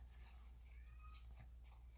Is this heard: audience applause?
no